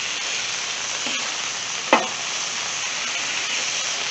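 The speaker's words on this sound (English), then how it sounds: "Let's check our patties. Time to flip. Press and flip." Burger patties sizzle on a hot griddle at low, steady volume, with a single sharp press-and-flip impact near the middle and a fainter scrape a moment earlier.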